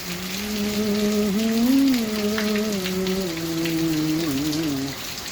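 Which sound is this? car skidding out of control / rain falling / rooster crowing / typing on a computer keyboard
rain falling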